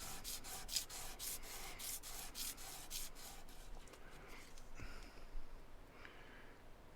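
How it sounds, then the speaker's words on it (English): A silver pendant is sanded by hand, giving soft, rapid rhythmic rubbing strokes that are close and quiet, then slow into a few lighter scrapes, with no talking. "So now that I've sanded it in one direction, I'm going to sand it in the other."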